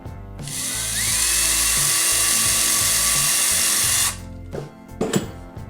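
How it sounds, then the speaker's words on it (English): A high-pitched small drill with a 1/16-inch bit whines steadily for about four seconds up close while boring into maple wood, then stops, followed by a few light clicks and taps. "I've got a 1/16 inch bit here, and I'm going to drill in"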